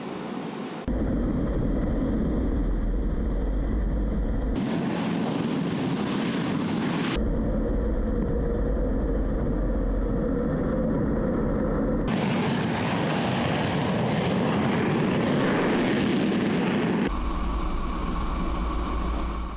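A loud, sustained jet engine roar from a Royal Malaysian Air Force military aircraft builds and rumbles steadily, with deep low-frequency thunder throughout, powering up for takeoff.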